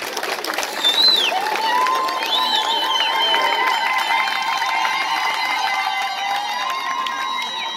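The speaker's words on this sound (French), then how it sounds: "vous pouvez tous les applaudir là" A crowd at a tribute evening held by an association applauds and cheers, with high whistles and held vocal tones over steady, fairly loud clapping.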